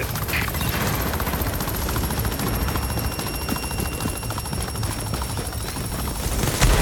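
Helicopter in the video game The Division, a steady loud rotor drone running throughout amid dense broadband battle noise, with possible gunfire mixed in.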